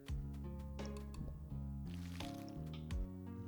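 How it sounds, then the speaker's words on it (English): Watering crops with a watering can in the Sun Haven farming video game: soft squishy splashes and drips of water repeating in short bursts over steady background music. "first we should water everything though, because otherwise I'm gonna forget."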